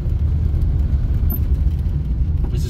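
A 1985 Soviet Lada drives on a rough hill road, its engine a steady low rumbling drone heard from inside the car.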